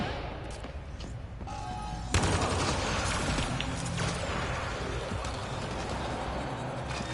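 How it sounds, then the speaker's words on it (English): Bursts of gunfire and heavy thumps in a PS4 video game, a dense, loud barrage that swells sharply partway through and keeps rumbling without pause. "Oh, shooting."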